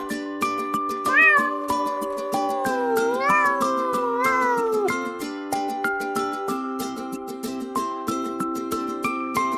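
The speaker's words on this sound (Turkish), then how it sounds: "Bu bir kedi." A cat meows repeatedly in drawn-out, pitch-bending cries over a steady tonal musical backing, clear and close.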